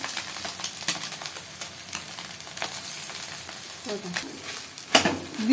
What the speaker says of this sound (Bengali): এরপর যে চাউমিনটা সেদ্ধ করে রাখা ছিল সেটা এখন দিয়ে দেওয়া হচ্ছে